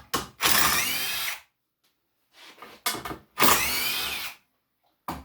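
A power drill backs out screws to separate two wooden rails of a shaving horse, with two loud whirring bursts of about a second each close up and short rattles and taps between them.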